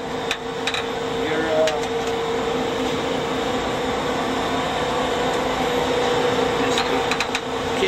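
An old Sigma-5 mainframe computer with a faulty power supply hums and whirs loudly and steadily, with a constant mechanical drone and a few sharp clicks scattered through it.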